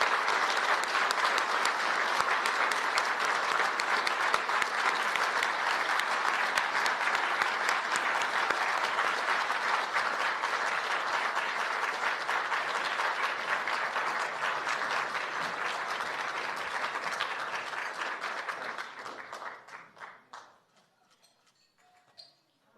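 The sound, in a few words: applause for honoree Rana Ayyub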